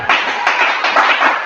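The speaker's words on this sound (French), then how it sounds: "Est-ce que quelqu'un peut applaudir le Seigneur?" Congregation clapping for the Lord during a French-language church sermon, several bursts of hand claps in quick rhythm, fairly loud and close, with no talk over them.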